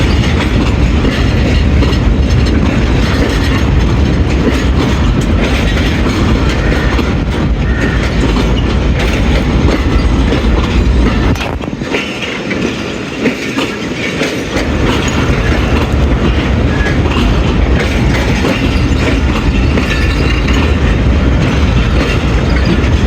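Baba Fareed Express passenger train on a Pakistani branch line out of Lahore Junction: a loud, steady roar of rolling wheels and rattling carriages, recorded close, with a brief dip partway through.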